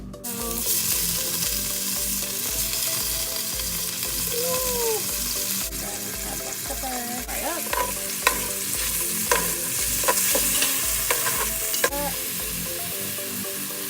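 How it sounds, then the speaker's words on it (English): Peeled shrimp frying in hot oil in a pan, a steady loud sizzle with occasional sharp pops and stirring scrapes throughout, no voices. "Oil is is getting all nice and heated up, so I can throw my shrimp in here"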